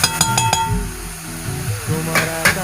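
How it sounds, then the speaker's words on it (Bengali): Banana blossom pieces fry in a pan with oil and turmeric while being stirred, giving a steady close sizzle broken by several short scrapes and clinks of the spoon against the pan. "সবগুলো মা দেখো একসঙ্গে ভেজে নিচ্ছে"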